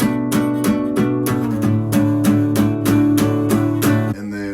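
Electric or acoustic guitar playing a Christmas melody in plucked single notes and barred chord shapes high on the neck, a steady run of about a dozen evenly spaced picked notes ringing close and clear with no voice over them.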